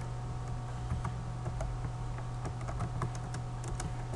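Fast, steady typing on a computer keyboard while writing JavaScript code, with close, rapid key clicks over a constant low electrical hum and no talking.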